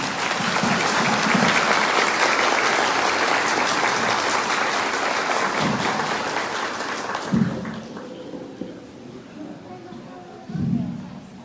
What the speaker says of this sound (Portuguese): Saudemos essas famílias com a salva de palmas.